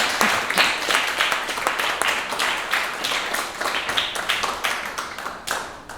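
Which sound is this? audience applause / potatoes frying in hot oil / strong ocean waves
audience applause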